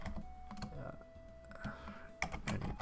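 Keys clatter on a computer keyboard in quick irregular bursts, close and quiet, while a voice speaks softly alongside.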